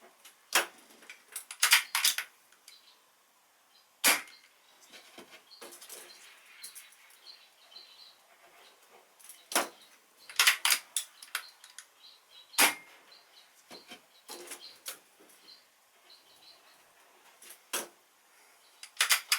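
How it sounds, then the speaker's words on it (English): A Brocock Contour Super 6 air rifle fires a six-shot string over a chronograph, each shot a sharp, loud crack with scattered fainter clicks between, spaced a few seconds apart. "We'll just shoot a 6-shot string over the chrono now, see what sort of results we're getting."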